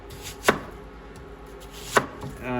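A knife chops through an onion in two separate sharp cuts, the blade thudding against the board about a second and a half apart, close and crisp, with no talking.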